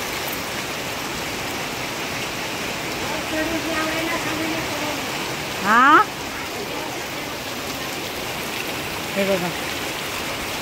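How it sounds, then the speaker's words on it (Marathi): Heavy rain pours outside a village house in the Konkan, a steady dense hiss filling the whole scene, with a voice speaking briefly over it. "बाहेर पाऊस तुम्हाला हे बघा गावी तुफान पाऊस आहे"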